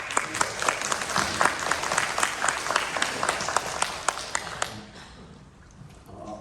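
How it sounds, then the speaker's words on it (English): Audience applause at a Buddhist church service in Fresno welcoming the Reverend Miyaji, a former rimban, with crisp individual claps in a steady round for nearly five seconds before it fades into room quiet. "Please applaud"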